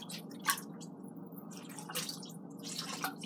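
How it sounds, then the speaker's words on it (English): Liquid sloshing and dripping while a can is rinsed out in a kitchen, soft wet splashes and drips at low volume with no voices. "I'm gonna rinse this can out."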